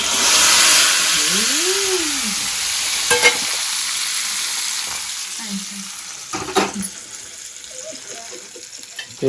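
Spices for a tempering crackle and sizzle in hot oil, a broad hiss with stirring clatter and a few sharp pops, heard close and alone with no talking.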